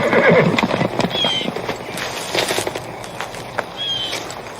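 A horse whinnies loudly at the start, with hoofbeats clopping and shuffling close by and a second, fainter whinny later.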